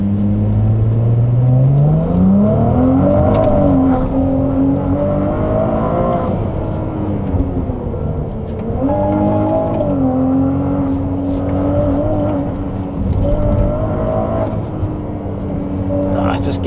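A Ferrari 296 GTB drives mountain roads in Italy, its engine droning and rising in pitch as it accelerates through the gears, loud and continuous inside the cabin, with someone talking over it.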